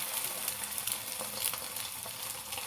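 Parotta frying on an oiled pan, a close, steady hiss of hot oil with small popping crackles across a few seconds.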